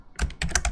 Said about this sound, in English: I'm typing in my